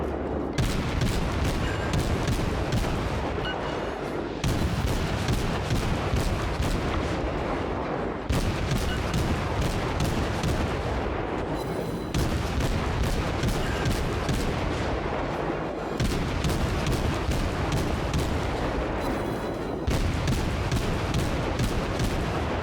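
Naval guns firing in World of Warships, heavy booming salvos spaced a few seconds apart, each a loud blast that rolls into a sustained rumble, repeating in a steady rhythm without talk.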